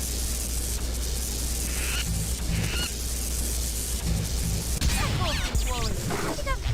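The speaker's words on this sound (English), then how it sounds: "They're seagulls." Seagulls cry in Tony Hawk's Underground 2, with several short squawking calls rising near the end over a steady, noisy wash of background ambience.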